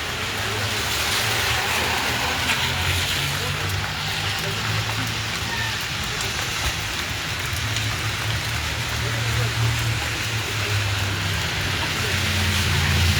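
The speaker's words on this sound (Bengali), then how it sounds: "অনেক বৃষ্টি হচ্ছে, আর বৃষ্টির দৃশ্যটাই কিন্তু আমরা আপনাদেরকে দেখাচ্ছি।" Heavy rain pours down in downtown Toronto near the CN Tower, a dense, steady hiss of drops on hard surfaces with a low rumble of passing traffic underneath, continuous and loud throughout.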